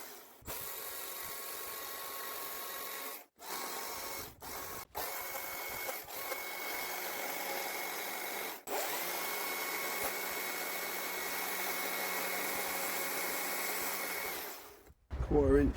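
A Stihl MSA 160C battery electric chainsaw with an AP200 battery and 1/4 inch chain runs in several short bursts, then holds a longer steady whine before it stops.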